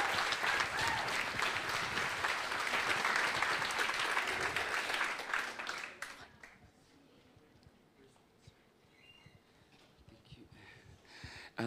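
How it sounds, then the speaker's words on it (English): Audience applauds a Papatoetoe High School performance at TVNZ for Samoan Language Week, dense steady clapping for about six seconds before fading to a quiet room with faint murmurs. "Round of applause, please, for Papatoetoe High School."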